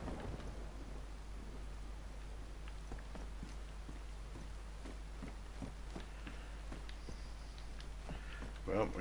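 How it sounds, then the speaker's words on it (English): Rain falls in the video game DayZ as a steady, dense hiss, with faint low rumbles like distant thunder and no talking. "we're going to stay in here until the rain fucking stops"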